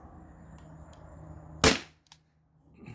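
A modded T4E HDP50 launcher powered by a 20 oz CO2 tank fires a single sharp, loud shot, a crisp burst that cuts off quickly, followed by a faint click and a brief quiet.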